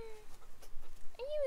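A Great Pyrenees puppy on a homestead gives a thin, high whimpering whine at the start and again near the end, with soft breathy panting between, close by and fairly quiet.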